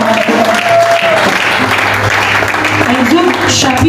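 A church congregation applauds steadily in a loud, dense burst of clapping that fills the room, with voices and shouts mixed through the crowd noise.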